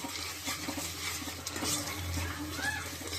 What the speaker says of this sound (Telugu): పేస్ట్ దీంట్లో వేసేస్తే బాగా వేగాలి.